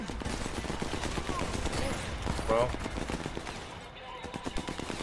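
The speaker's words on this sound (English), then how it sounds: "Judging by the gunfire, the enemy would be distracted right about now." Rapid bursts of gunfire in Sniper Elite 4 crackle in the distance, layered with other game sounds and faint voices.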